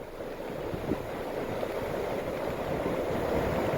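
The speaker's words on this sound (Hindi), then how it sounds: "शाकुंभरी मंदिर परिसर में किस तरीके से उफान पर हैं बरसाती नदियां" Swollen monsoon river in flood near the Shakumbhari temple, a steady broadband rush of fast water, loud and continuous with no let-up, no voices over it.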